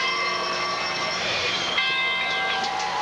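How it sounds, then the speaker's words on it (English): A victory bell rings out at Riley Stadium during a homecoming high school football game, its sustained metallic tones overlapping in a continuous clang beneath crowd noise. "The victory bell ringing tonight at Riley Stadium"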